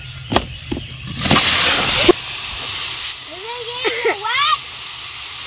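Water spraying onto plants on a farm gives a short, close hissing burst of roughly a second, with scattered voices and chatter before and after it.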